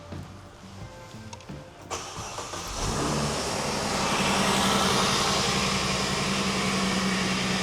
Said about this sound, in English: Start engine and run at idle speed.